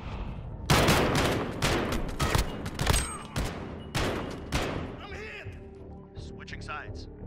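Rapid bursts of automatic gunfire in the Call of Duty Modern Warfare video game, loud and close, crackle in repeated volleys with short gaps, while a voice speaks between shots.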